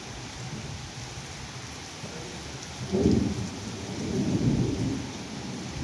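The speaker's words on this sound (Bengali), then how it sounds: "মেঘের গর্জন শুনতে পারছেন আপনারা? কঠিন মেঘের গর্জন।" Thunder rumbles loudly in the middle of a heavy downpour, a deep roll swelling about halfway through and a second broader rumble following, over a steady wash of rain hitting surfaces nearby.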